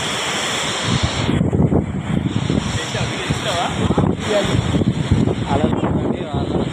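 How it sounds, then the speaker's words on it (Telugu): Waves surge and crash continuously at Kollam Beach in Kerala, a loud, broad roar with heavy wind buffeting the microphone and rainy weather, with no pauses. "అలలు చూడండి, అక్కడ చూడండి, అలలు చాలా వేగంగా వస్తున్నాయి."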